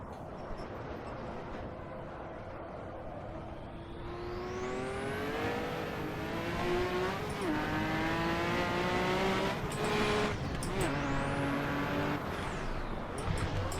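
Turbopanzer race car in Assetto Corsa, its engine droning steadily, then climbing in pitch with a rising whine as it accelerates, dipping briefly between gear changes before revving up again, fairly close and continuous.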